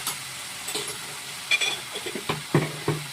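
Spice paste of ground coriander, cumin and green chili sizzling in a pan, soft frying hiss broken by scattered clinks and scrapes of stirring, close and moderate in volume.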